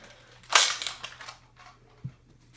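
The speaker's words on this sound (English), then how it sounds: "Alright, firing test." A small Excel toy dart blaster fires a foam dart once, giving a sharp, close snap followed by a short rattle and a faint thud about a second and a half later.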